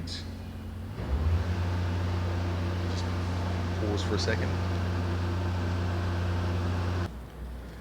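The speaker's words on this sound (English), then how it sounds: "There was a truck outside loading up a container and it was exceedingly noisy." A truck outside loading a container makes a loud, steady mechanical drone with a deep hum and occasional clanks, holding for several seconds before cutting off. Someone speaks briefly over it.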